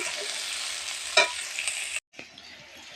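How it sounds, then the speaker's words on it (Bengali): Onion sizzles in hot oil in a wok, a steady bright crackle with a stirring clink midway, then a sudden brief drop before a quieter sizzle resumes. "পেঁয়াজটা ভাজা ভাজা হয়ে এসছে"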